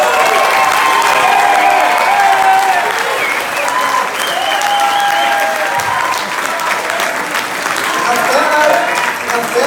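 Audience at a VfB ball applauding, a dense, sustained wash of clapping from a large crowd indoors, with scattered voices and brief tonal sounds mixed into the ovation throughout.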